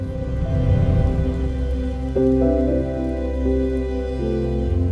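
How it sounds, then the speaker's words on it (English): Steady rain falls continuously on a city street, a dense even patter with a low rumble beneath, moderately loud and unbroken throughout. "the quiet company of falling rain"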